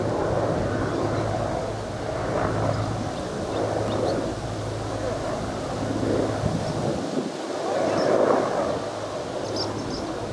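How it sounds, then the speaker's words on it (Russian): Helicopters flying over a camp, a continuous low rotor rumble with wind buffeting the microphone, steady and fairly loud throughout with no voices. "вот здесь летят вертолеты над лагерем."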